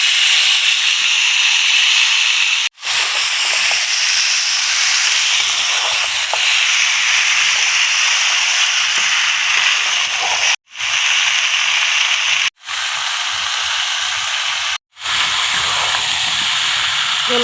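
Broiler chicken pieces sizzle loudly in hot oil with cumin, a dense and continuous close hiss with brief breaks and crackling spatter throughout.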